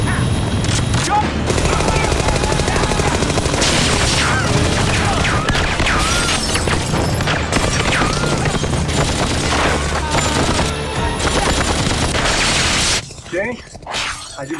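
Gunfire in the TV show Firefly, heard as loud, dense bursts of shots, crashes and booms within a busy action soundtrack with music and shouting voices, then dropping away near the end.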